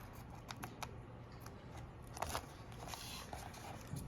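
Scissors make a diagonal corner cut in Vistafoil self-adhesive covering on a paperback book, heard as a few faint, close, crisp snips and rustles in a quiet room.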